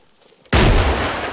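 A single sudden, loud gunshot from an ArmA III military video game firefight, with a sharp crack and a booming tail that lingers and fades slowly. No voices are heard.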